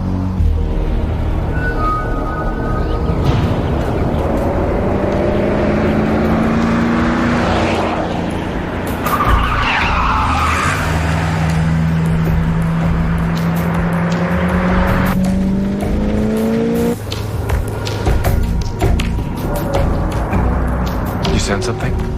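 A car speeds through a chase, engine roaring continuously with pitch sweeps as it accelerates and tires screech, loud and close, while voices talk over the driving noise.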